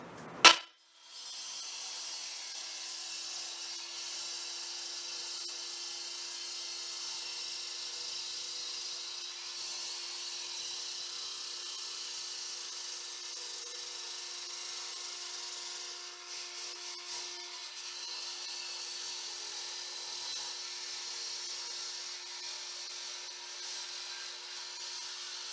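Electric demo saw cutting concrete: a brief loud bite at the start, then a steady high, hissing whine of the abrasive cut, with a constant motor tone beneath, close and alone.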